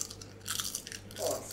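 Close, loud crunching bites into potato chips, a few sharp crackly chews scattered through the moment with no talk over them.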